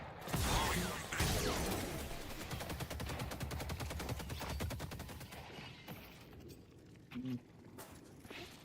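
Rapid electrified bullet fire in the shooter Deadlock, a dense, loud stream of crackling shots that runs for several seconds, then thins into scattered impacts and a few sharper hits.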